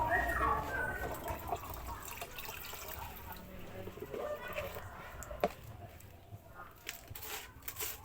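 Dissolved fertilizer solution for stimulating grape flowering is poured into an applicator container, a soft watery splashing and trickling through the first seconds that gives way to quieter drips and handling noise.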